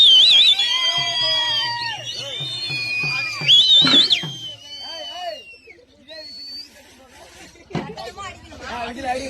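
Shrill whistles ring out over a lively crowd at a karakattam folk-dance festival in Salem, with chatter and shouting throughout and a brief lull midway.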